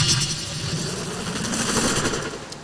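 Synth bass made super crunchy with Trash distortion: a continuous gritty, rattling distorted drone with a rough, choppy texture throughout, loud and steady with no voices.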